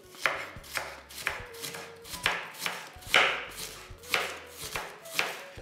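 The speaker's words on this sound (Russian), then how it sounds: "Нарежем лук. Небольшая головка, такая средняя. Режем мелко-мелко, как можно мельче." A knife chops finely through a small onion on a board, sharp rhythmic cuts about once per second, close and clear with no talking.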